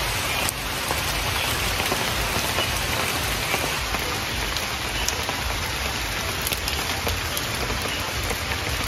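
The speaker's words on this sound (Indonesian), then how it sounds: "Sudah mulai hujan, sob." Heavy rain pours steadily during a mountain hike up Gunung Karang in Banten, a dense, loud, unbroken hiss of drops close around the listener, with no voices.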